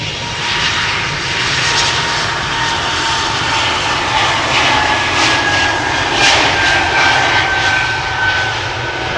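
An Air Baltic jet airliner departs Amsterdam Schiphol bound for Riga, its engines a loud, steady roar held close throughout with no voices.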